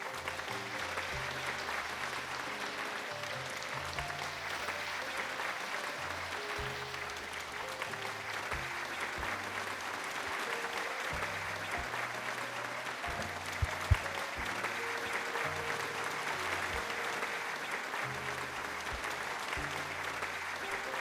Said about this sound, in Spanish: les pido un aplauso a todos.